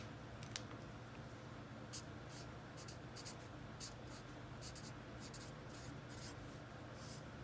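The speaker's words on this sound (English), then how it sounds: "Now I'm going to draw out each of the phases" Pen or marker drawing mitosis phase diagrams, with faint repeated scratchy strokes across a steady hiss of background noise and no talking.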